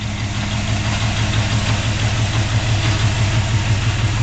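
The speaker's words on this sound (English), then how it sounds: "It's got a really nice exhaust note to it." A 283 V8 engine in a 1964 Acadian Beaumont Sport Convertible idling steadily through a dual exhaust with chrome tips, a loud, close, even burbling rumble with no talking.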